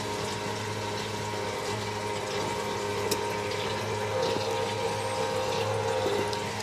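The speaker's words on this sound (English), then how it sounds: "both the live well pump and the raw water pump pulls water out of the sea" Raw water pump on a boat drawing in seawater, a steady mechanical hum beneath continuous rushing, gurgling water, close by and even in level throughout with a few small knocks.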